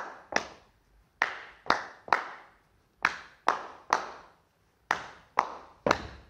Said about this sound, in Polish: czyli skaczemy i klaszczemy